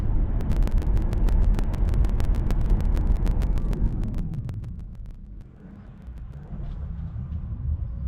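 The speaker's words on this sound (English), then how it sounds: "You can hear the car lurch forward, as if like you just realized that you have to accelerate." Tesla car driving under Full Self Driving, a steady low road rumble with wind noise that eases and dips midway, then swells again as the car lurches forward and accelerates.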